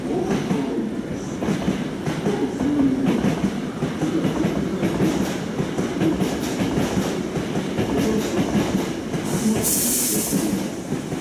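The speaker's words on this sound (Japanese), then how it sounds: "ただいま1号線に到着の電車は、各駅停車、大阪方面行きです。" A Hankyu train rumbles steadily with rhythmic clickety-clack of wheels as it pulls into a Japanese station platform, loud and close, with a brief hiss near the end.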